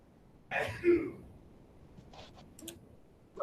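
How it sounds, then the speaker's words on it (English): A single sneeze bursts out at close range in an otherwise quiet room, followed by a few faint clicks and small rustles. "Someone sneezed."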